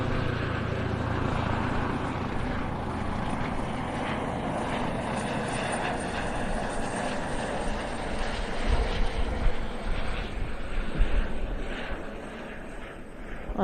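A Jupiter helicopter departs at the RIAT 2024 airshow with a continuous rotor and turbine roar that holds steady, then grows louder and more turbulent toward the end as it passes closer.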